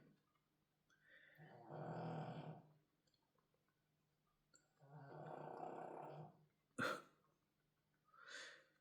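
Nacho snores quietly, with long, rough, rumbling breaths that rise and fall in a slow rhythm, followed by a sharp snort and then a softer wheezy exhale.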